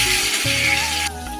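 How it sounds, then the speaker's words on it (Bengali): Potatoes and onions frying together in a pan with a steady, close sizzle that hisses continuously and eases slightly toward the end. "পেঁয়াজ আর আলু দুটো একসঙ্গে ভাজা হোক"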